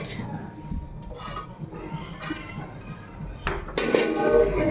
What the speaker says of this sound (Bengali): এবার আমি ঢাকনা দিয়ে ঢেকে দিব।